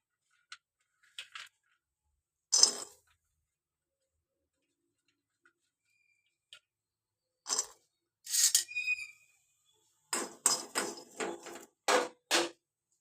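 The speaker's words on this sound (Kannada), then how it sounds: "ನೋಡಿ ಕಡಲೆ ಬೀಜನ ಹುರ್ಕೊತಾ ಇದ್ದೀನಿ" Peanuts being roasted in a little oil in a hot kadai give off sparse, scattered clicking and rattling bursts, with long quiet gaps between them and a denser cluster of sharp ticks toward the end.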